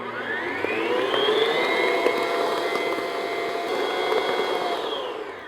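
A stand mixer beats cherry pound cake batter at medium-high speed, a loud, steady motor whir with rising and falling tonal whine, close and continuous with no talking.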